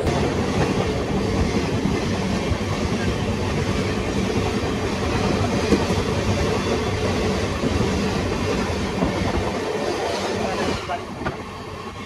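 The Shantiniketan Express passenger train runs with a continuous heavy rumble and rhythmic clickety-clack of wheels on rails, steady and close, with faint voices underneath.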